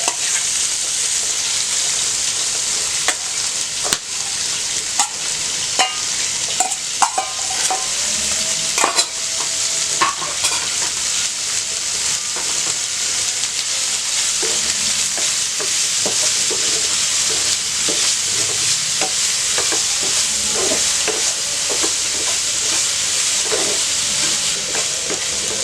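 Blanched broccoli sprinkled with chili powder fries in a pan, giving a continuous loud sizzle broken by scattered clinks and scrapes of stirring, with no voices.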